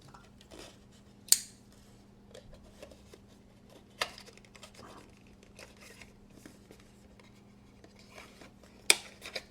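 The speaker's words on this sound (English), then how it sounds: "I'll try not to rip this box." A Nitecore product box opened by hand: quiet scattered crinkles, scrapes and taps of cardboard and packaging, with a few sharp louder tears or snaps, close and intimate against a faint hum.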